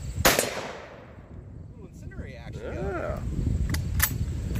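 A single loud .50 BMG armor piercing incendiary round fires with a sharp close crack, then its echo rolls away outdoors, followed by fainter distant impacts and a couple of later sharp pops.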